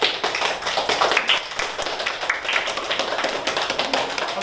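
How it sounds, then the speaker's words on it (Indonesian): A classroom of fourth-grade pupils clapping hands together, dense rapid claps sustained evenly for several seconds, close and fairly loud. "beri tepuk tangan"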